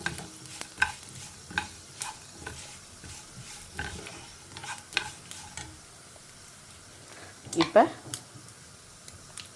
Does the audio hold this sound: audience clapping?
no